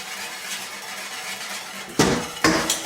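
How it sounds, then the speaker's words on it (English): A whisk works a cornmeal pudding mixture spiced with ginger and nutmeg in a bowl: soft, steady scraping, then two sharp metallic clinks near the end as the whisk strikes the bowl. "We're going to keep whisking this until it becomes too thick to whisk"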